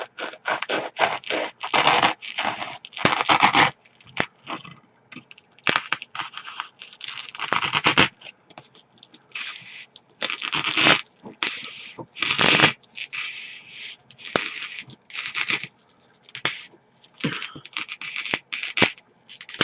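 Scissors cutting through EVA foam to shape an ice cream cone piece, heard as repeated close, crisp snipping and scraping bursts in irregular runs with short pauses, no talking.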